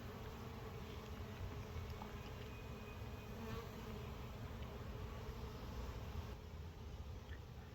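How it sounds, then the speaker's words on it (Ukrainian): A swarm of honeybees settling after arriving, producing a steady, dense buzzing hum that stays close and even throughout with no talking. "Наблюдаю за бджілками, як вони всаджуються."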